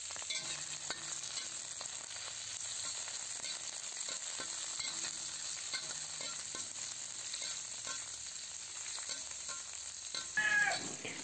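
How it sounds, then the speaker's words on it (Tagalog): Peeled shrimp sautéing in a pan with softened onion and garlic, a steady close sizzle and frying crackle running throughout with light stirring clatter, no talking. "Gisahin lang natin yan hanggang sa magkulay orange na ang hipon."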